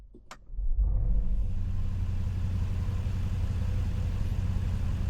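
A cold Mercedes G63 AMG V8 starts up after a brief click, then settles into a steady, deep, loud idle rumble heard up close with no talking.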